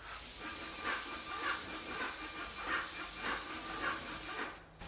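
Steady hiss of MDF primer paint sprayed onto a vertical surface, continuous and close for several seconds with faint pulsing as the gun moves, cutting off just before the end.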